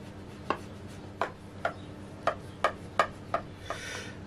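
A knife cuts through buttered dough on a hard surface in about seven crisp, evenly spaced knocks, close and clear, ending in a soft brushing rustle.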